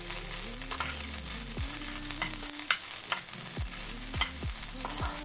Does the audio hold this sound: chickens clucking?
no